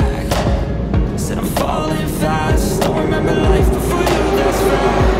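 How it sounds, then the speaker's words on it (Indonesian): Underground Moscow metro train in motion, a steady loud rumble and rattle of the carriage with repeated thumps from the rails running throughout. "Sekarang saya sudah masuk dalam kereta bawah tanah."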